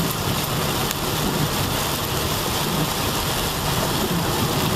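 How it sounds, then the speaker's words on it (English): Heavy rain during a drive: a dense, steady roar of rain drumming on the car, loud and unbroken throughout, with no voices. "I think this is a first coming out here for the fourth and running into a rainstorm."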